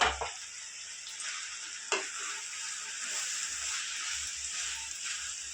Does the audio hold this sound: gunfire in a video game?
no